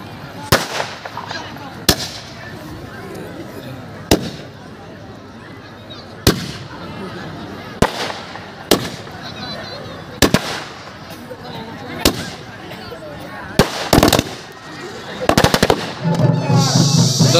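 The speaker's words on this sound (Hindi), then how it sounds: "और ये रही पटाखे भाई, देखिए मजा आ जाएगा।" Firecrackers burst at a village fair in sharp, loud, separate bangs spaced a second or two apart, with a quick crackling cluster near the end, over a steady hum of crowd noise and voices.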